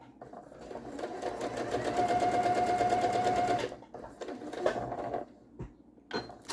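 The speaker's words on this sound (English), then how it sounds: "we're going to sew it down, keeping it lined up and held together" A sewing machine with a quarter-inch foot stitches a quilt strip, running in a steady close whir for a few seconds before stopping, followed by softer handling noises.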